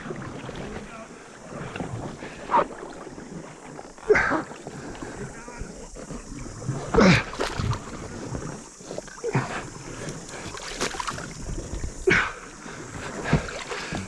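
Paddle strokes splash and churn pond water at irregular intervals as a boat is paddled across, close by, with wind buffeting and people talking throughout.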